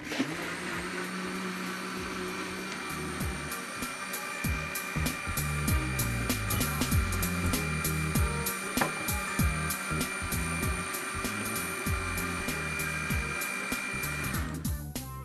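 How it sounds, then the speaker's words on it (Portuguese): An electric mixer whirs steadily while beating two whole eggs for an oven-baked hot dog batter, with a continuous motor drone and occasional rattling clicks against the bowl, stopping abruptly near the end. "Aí eu dou uma batidinha, que é pra misturar bem e bater os ovos"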